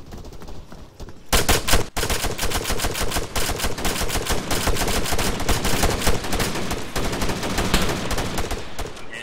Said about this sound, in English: We've got ourselves a firefight.